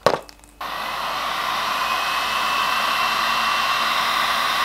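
A heat gun shrinks heat shrink tubing over wiring for fursuit head fans, starting with a short click and then holding a loud, steady, close blowing roar with no talk.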